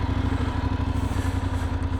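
A VOGE DS900X motorcycle engine runs steadily and close by while being ridden, a low pulsing drone with a faint click near the end.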